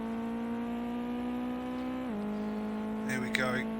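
A Ginetta Junior race car at Oulton Park brakes hard into a corner, its steady engine note dropping sharply midway as it slows, with a brief higher squeal near the end.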